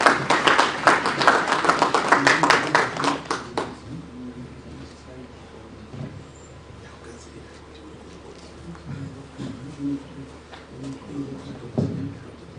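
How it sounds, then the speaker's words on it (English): An audience at the Project Management Institute annual conference claps loudly for about four seconds, then the applause quickly fades into scattered faint taps and room murmur, with a brief louder clatter near the end. "Let's give me a round of applause."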